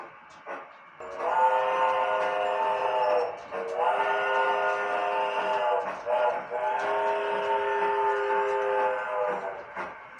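A G scale model freight train chugs uphill on a 2.5% grade, with a long, steady whistle-like tone sounding in several sustained blasts over rhythmic rail clatter.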